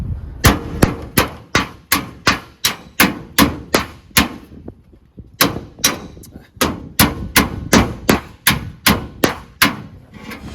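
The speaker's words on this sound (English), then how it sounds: "you might want to do a hammer on to pull that crease out." On a Datsun car body panel, a crease is beaten out with rapid, sharp metallic hammer blows that ring close and loud in quick even bursts, with a short pause mid-way before the striking resumes.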